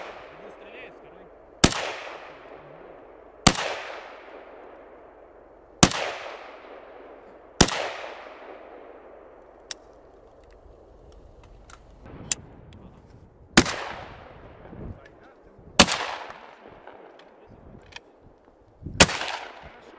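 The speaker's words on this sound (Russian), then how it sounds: "Стрельба нон-стоп." Sharp, loud gunshots crack out roughly every two seconds, each trailing a long echoing decay, with a few fainter pops between them.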